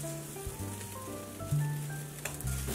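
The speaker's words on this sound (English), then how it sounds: "we're gonna put the hot dog weenies in the boiling water." Hot dog weenies dropped into a pot of boiling water, a continuous bubbling, sizzling roil close by, with a few louder splashy bursts as they go in, and no talking.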